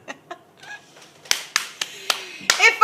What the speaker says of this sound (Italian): Facciamo un applausone